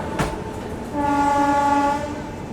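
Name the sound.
Jammu Tawi Kolkata Express train passing with horn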